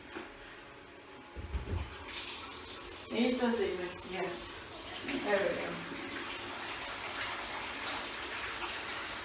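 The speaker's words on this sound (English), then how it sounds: "Put some water in here now." Water runs from a tap into a bucket for bathroom cleaning, a steady gushing rush that persists behind a few short spoken exchanges.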